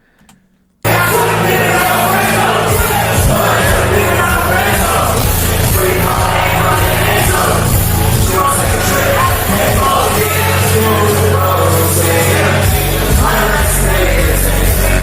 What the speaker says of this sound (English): You see the crowd singing along to his verse or rapping along to his verse